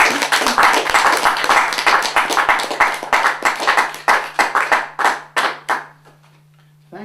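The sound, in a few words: audience applause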